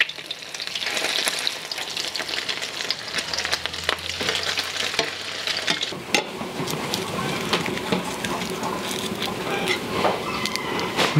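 Food sizzling steadily in a pan on a ranch kitchen stove, a loud continuous fry with scattered clicks and scrapes as pieces are turned over with a knife, no talking.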